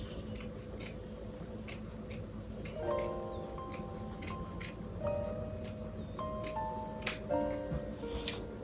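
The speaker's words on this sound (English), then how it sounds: "I'm going to cut out the smaller size." Scissors snip paper leaf shapes for modern black-and-white Christmas ornaments in a quiet room, giving faint, scattered clicks and short cuts, with some soft tonal background sound underneath.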